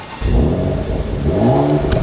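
A car engine revving on a busy Dubai street, rising and falling in pitch twice as it accelerates, loud and close with steady traffic noise around it.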